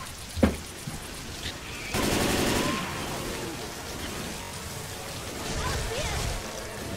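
Rain in the Left 4 Dead 2 video game, a steady patter of falling rain throughout, with a brief sharp knock and a louder wash of noise partway through, and voices talking over it.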